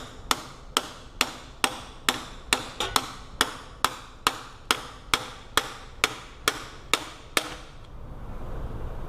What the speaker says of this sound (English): Take a hammer and beat it up, beat it through.